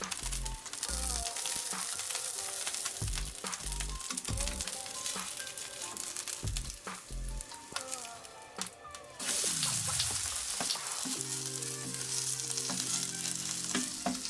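Okonomiyaki with pork, shrimp and squid sizzling loudly in a hot pan, a steady close frying hiss broken by occasional scraping and clatter.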